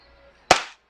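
A single sharp crack of a WE Hicapa 5.1 Type K airsoft pistol firing, loud and close with a brief ringing tail, after a faint low murmur.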